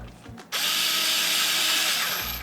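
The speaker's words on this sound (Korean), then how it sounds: "저는 요 샤오미 정동 드릴을 사용할게요" A Xiaomi electric drill drives screws into a monitor arm, starting after a brief pause with a loud, steady whirring whine held for about two seconds before easing off.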